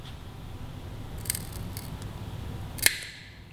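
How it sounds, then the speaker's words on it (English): Scissors snip the end of a brake reservoir hose on a 2018 Suzuki GSX-R1000 superbike, two crisp close cuts over a low steady background hum. "Just want to start off with a nice brush cut on the end"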